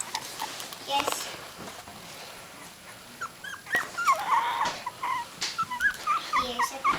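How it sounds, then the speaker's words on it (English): Three-week-old puppies whimper and yip close by, with scattered high whines and squeaks building toward the end amid a bit of background movement. "Here's a puppy."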